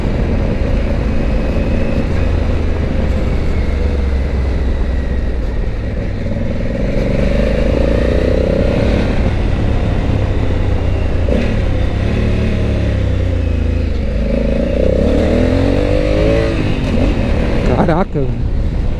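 A high-end motorcycle with electronic front and rear suspension adjustment pulls hard under acceleration, its engine note rising and falling through gear changes in a loud, continuous drone from start to finish, with someone talking over it.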